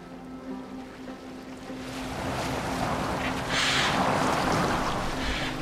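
Viking longship sailing across open water in Assassin's Creed Valhalla, with steady wash of waves and wind building louder toward the end, continuous and close.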